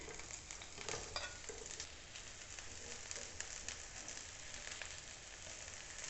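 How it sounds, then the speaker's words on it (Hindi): Onion rings frying in a little oil in a frying pan over high heat, a faint, even hiss with light crackles and soft clinks throughout. "अब ये जो प्याज के रिंग्स हैं इनको हम फ्राई करेंगे।"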